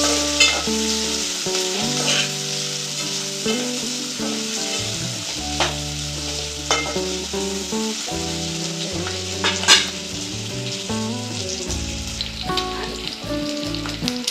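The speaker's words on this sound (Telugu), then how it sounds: "ఉల్లిగడ్డ, పచ్చిమిరపకాయలు కాస్త వేగినాయి కదా" Onions and green chillies fry in a pan with whole cardamom, cloves and cinnamon for a Telangana-style vegetable pulao, a steady sizzle under music with occasional stirring scrapes, close and fairly loud.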